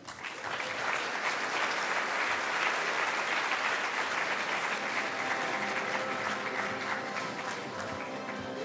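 Sustained applause and cheering fill a large hall at a horse racing awards ceremony, loud and steady throughout with no speech over it.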